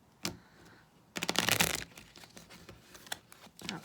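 A deck of cards is shuffled by hand up close: a few sharp snaps, then a dense riffling burst, followed by scattered taps and flicks of the cards.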